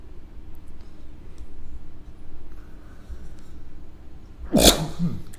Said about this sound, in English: I'm just going to sneeze into the microphone